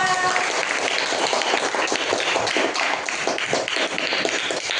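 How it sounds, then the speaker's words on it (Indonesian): A classroom of students clapping steadily and loudly for several seconds, a dense patter of hands with no pauses. "Tepuk tangan untuk temannya Alfa."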